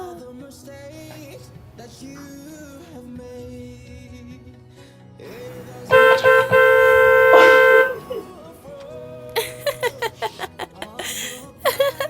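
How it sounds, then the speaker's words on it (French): A car horn blares at a gate in a long sustained honk, then several short toots in quick succession, with some muffled background sound before. "Ça klaxonne au portail."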